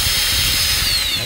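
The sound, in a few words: drill bit drilling out a broken bolt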